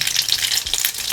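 A spoonful of mustard seeds hits hot oil for a semolina tikhat mithacha sanja, giving a loud, dense, close sizzle with crisp crackling throughout and no talking.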